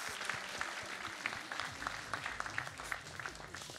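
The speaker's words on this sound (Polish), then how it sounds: "Wielkie brawa." Quiet applause from an audience at the Mister Poland 2020 pageant final, a brief patter of clapping hands heard somewhat distant and faint.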